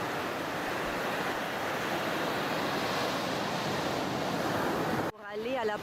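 Raging ocean surf roars continuously at a Costa Rica river mouth, loud and wind-blown, before cutting abruptly near the end to a short quieter stretch with a faint voice.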